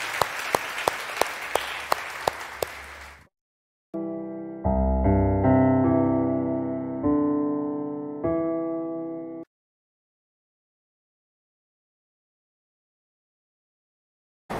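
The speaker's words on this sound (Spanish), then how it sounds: "Le damos un aplauso al Señor esta mañana." Church congregation claps in steady rhythmic beats for about three seconds, then keyboard chords ring out alone before fading to silence.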